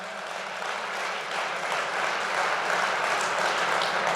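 Crowd at a Convention of States rally in Iowa applauding, a moderate, steady wash of clapping that holds evenly and swells slightly toward the end.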